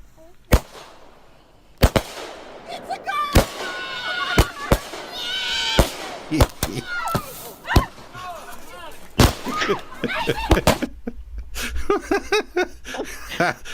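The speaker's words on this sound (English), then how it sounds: "Now we know about this famous firework that caused the fire." Fireworks go off in a rapid, irregular barrage of sharp, loud bangs and crackles over about fourteen seconds, with people's voices and laughter heard faintly between the blasts.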